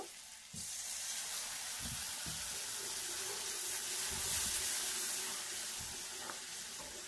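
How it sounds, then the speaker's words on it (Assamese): Water poured into a pan of chicken skin frying with onions sets off a loud, steady hiss of sizzling that holds for several seconds after a brief quiet start, with no one talking. "ইয়াত অলপ পানী দিব লাগিব"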